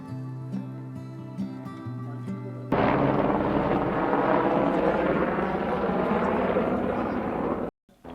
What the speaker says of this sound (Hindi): हर थोड़ी थोड़ी देर में भयंकर शोर मचाते हुए हेलीकॉप्टर्स हमारे काफ़ी करीब से निकलते थे